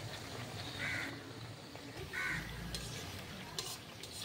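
Mung dal nimki frying in hot oil, a steady soft sizzle with occasional stirring and scraping in the pan, close and alone.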